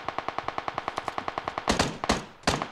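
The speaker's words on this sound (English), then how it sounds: "I have no idea where the shots are coming from." Rapid automatic gunfire in the video game PUBG Mobile, a steady even stream of about twenty close shots followed by a few heavier, louder blasts.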